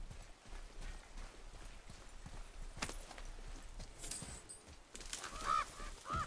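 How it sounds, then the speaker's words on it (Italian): A crow in the video game God of War gives two short, harsh caws near the end. Steady game ambience and rhythmic footsteps run underneath. "ho sentito una cornacchia"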